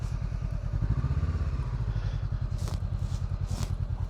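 A Honda Africa Twin adventure motorcycle engine idles close by, a steady pulsing rumble with even firing beats throughout, plus a couple of brief clicks near the end.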